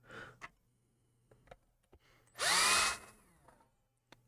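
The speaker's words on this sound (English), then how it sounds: "So that's why I'm not drilling this too deep." A power drill bores into a guitar body, one loud whining burst lasting about half a second, surrounded by quiet clicks and handling noises.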